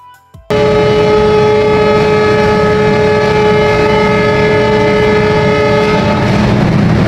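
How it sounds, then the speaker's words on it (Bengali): The Dhumketu Express sounds a loud, sustained horn while departing Dhaka station, a strong steady tone that holds for about five seconds over rumbling railway noise, then fades into rolling train sounds. "ধূমকেতু এক্সপ্রেস কিন্তু কড়া একটা হুইসেল দিয়ে ঢাকা ত্যাগ করছে"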